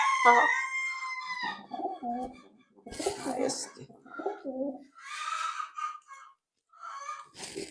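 Soft pigeon coos in short bursts, close by, interleaved with a person talking in between.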